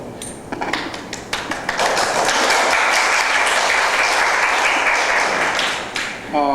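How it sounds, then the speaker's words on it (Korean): Audience applause for a guest lawyer at a Korean talk show: scattered individual claps first, then a dense, loud burst of clapping that holds steady before tapering off. "다음에 저한테도 박수 주세요"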